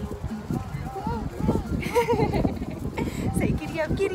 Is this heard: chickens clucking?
no